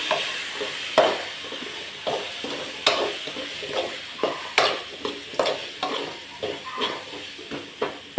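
Spice powders are stirred into potato masala frying in a pan, with a steady sizzle under repeated scraping strokes of a spoon against the pan. The strokes come every half second or so, close and moderately loud, with no talk.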